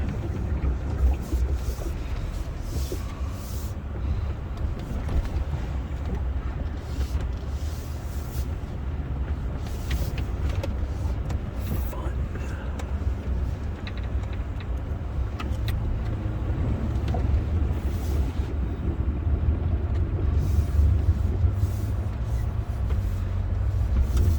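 A Land Rover crawls over the remains of a collapsed bridge on an off-road course, its engine a low, steady rumble with scattered knocks and crunches from the ground beneath, continuous and fairly close throughout.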